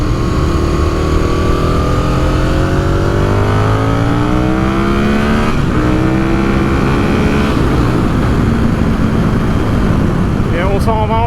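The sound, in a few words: Aprilia RSV 1000R 2003 motorcycle engine accelerating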